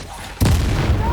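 Expelliarmus spell cast in Hogwarts Legacy during a goblin fight, a single sudden booming burst that hits and then rings on loudly with a sustained rumbling wash.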